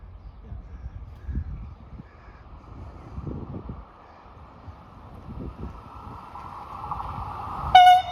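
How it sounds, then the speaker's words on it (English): A train approaches outdoors along a hiking route near Wasenbourg Castle, its low rumble rising gradually before a short, sharp horn toot at the end, with faint background noise and no speech. "We're going to get a train."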